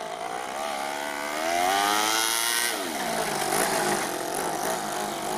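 A Toyan FS-L200 engine powering an RC Ford F450 truck runs in second gear with a loud, close, continuous buzzing drone whose pitch climbs, holds high for a moment, then dips and steadies again.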